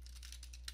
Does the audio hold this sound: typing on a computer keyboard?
yes